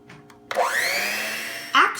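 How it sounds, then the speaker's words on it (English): An electric mixer whisks cream into butter, switching on abruptly into a loud steady whirring drone that holds for over a second before a brief rising shift in pitch near the end. "So I'm gonna keep whisking this and once it gets separating and then when it keeps thicker"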